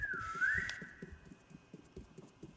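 Whistling in a Roblox horror game: one sustained whistled note bends upward, fairly faint, over a steady rhythm of soft footstep-like thuds.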